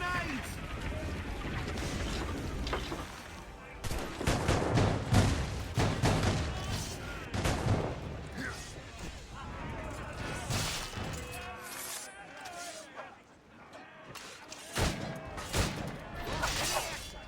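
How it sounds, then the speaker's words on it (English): Cannon and gun fire in an Assassin's Creed Rogue naval battle, with repeated loud booming volleys and crackling shots over the roar of wind and sea, and voices shouting between salvos. "Enemies firing! Fire! They hit us, sir!"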